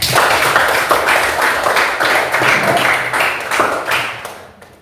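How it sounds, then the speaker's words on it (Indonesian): A classroom of students claps together at the end of an English lesson, loud close applause with uneven bursts and swells that fades out near the end. "kita berikan tepuk tangan untuk kita semua"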